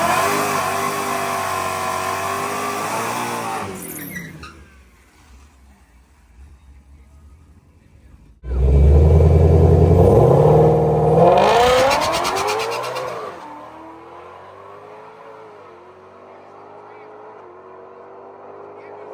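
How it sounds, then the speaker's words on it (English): An automatic car accelerates hard down a drag strip at night, its engine roaring loud and close, then a second hard launch surges with stuttering wheel hop before the engine fades into the distance. "So on this pass, you can hear the car wheel hopped really bad."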